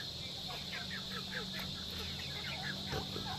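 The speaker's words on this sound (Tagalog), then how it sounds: "tinutuka kasi ito ng mga alaga natin na pabo at saka manok mga tropa" Native chickens and turkeys peck at chopped feed, giving repeated short clucks and chirps over a constant high-pitched hum, with a person talking at times.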